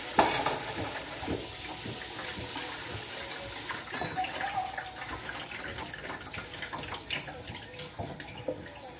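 Cassava leaves (matembele) being rinsed in water, with steady splashing and swishing close by, continuous over several seconds.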